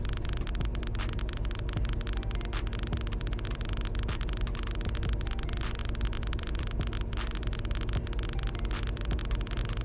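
Dense, irregular crackling clicks from a Geiger counter in Stormworks: Build and Rescue, near an exploded nuclear reactor, over a steady low hum, fairly loud and continuous throughout.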